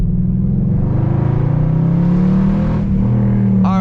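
Straight-piped exhaust of a 2006 Mercedes-Benz CLS 500 (W219) rumbles loud and close through a canyon drive, a deep steady drone with a slight swell in revs toward the end.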